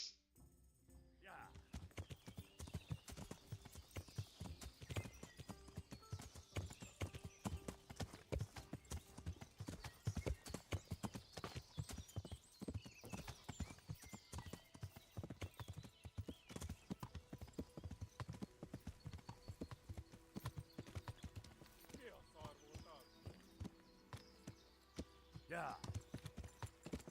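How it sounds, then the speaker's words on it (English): Horse galloping in the medieval video game Kingdom Come: Deliverance: rapid, steady hoofbeat clip-clops continue throughout, with a brief spoken word near the start. "Why is my horse so fast?"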